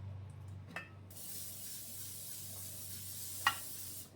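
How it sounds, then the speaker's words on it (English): Pam cooking spray hisses into a baking dish in one steady, faint spray lasting a few seconds, with a couple of small clicks from the can. "I'm just going to spray mine like a Pam spray"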